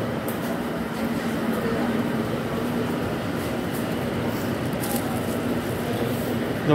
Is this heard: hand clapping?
no